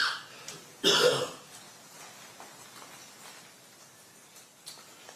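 A single sharp cough bursts out loudly and close, then fades into quiet room tone with a faint click near the end.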